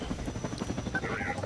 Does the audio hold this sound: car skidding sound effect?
no